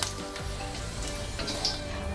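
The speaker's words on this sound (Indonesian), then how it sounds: "Goreng pelan-pelan sampai kurang lebih matang." Potatoes fry gently in a little oil, a brief continuous sizzle with soft crackles, close and fairly even in level, with no talking.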